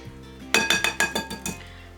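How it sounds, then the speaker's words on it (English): A whisk knocks against a bowl while mixing dry ingredients of all-purpose flour and cinnamon, six quick bright clinks in a steady rhythm, close and alone. "You're going to want to grab a whisk and whisk that together."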